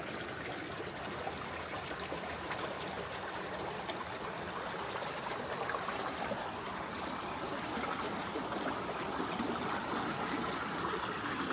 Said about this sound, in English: the River Sence flowing by